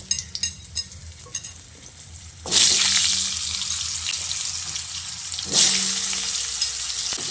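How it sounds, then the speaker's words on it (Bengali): Cut potatoes dropped into hot oil already mixed with salt and turmeric for a vegetarian potato and pointed gourd dish, first soft clinks and stirs, then a sudden loud sizzle that swells again as more go in. "তারপর আমি এই কেটে রাখা আলুগুলো এর মধ্যে দিয়ে দিচ্ছি"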